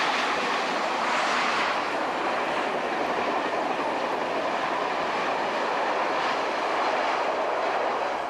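A passenger train running on the coastal line between Naples and Rome along the Mediterranean, heard as a continuous loud rumbling roar of wheels on rail with faint clickety-clack, steady throughout with no voices.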